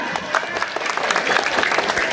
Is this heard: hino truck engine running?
no